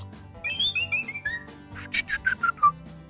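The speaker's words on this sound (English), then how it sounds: "I shouldn't have whistled into the microphone" A person whistles a quick series of rising and falling notes close into a microphone, the first phrase smooth and sliding, then a run of short separate tweets near the end, loud and alone.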